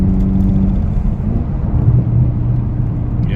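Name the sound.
car driving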